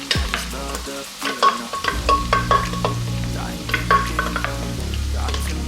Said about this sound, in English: the oil is already heated. About 2 minutes. Then you add your blended items inside.